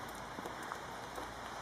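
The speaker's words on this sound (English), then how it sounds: "It's just a very light drizzle now." Light drizzle falling steadily, a soft continuous patter of rain on surfaces outdoors, faint and even with scattered tiny drop ticks and no voices.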